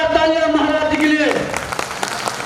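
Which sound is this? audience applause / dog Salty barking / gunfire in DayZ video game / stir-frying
audience applause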